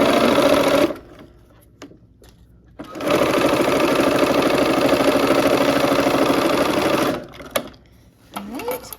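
A sewing machine stitches quilt pieces close by: a short burst of stitching, a pause, then one long steady run of rapid mechanical chatter. It stops again and a few faint handling sounds follow.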